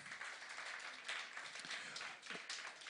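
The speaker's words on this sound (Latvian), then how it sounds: "sagaidām ar aplausiem" An audience at a panel discussion applauds to welcome a speaker, a steady, fairly faint patter of many hands clapping throughout.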